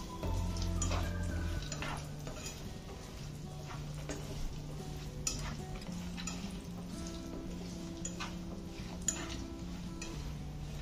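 Chopped cashews roast in a pan for a laddoo mix of dates and dry fruits, giving a faint, low sizzle with occasional soft stirring scrapes and light ticks, quiet and close.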